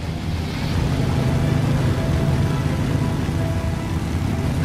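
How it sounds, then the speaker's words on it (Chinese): A heavy motorcycle ridden in the video game Beyond: Two Souls gives a steady, loud, broadband roar of engine and rushing wind. It continues without a break and with no speech. "骑摩托车超帅，抢到一台重机"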